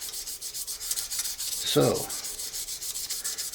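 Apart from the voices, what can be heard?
sanding a pen repair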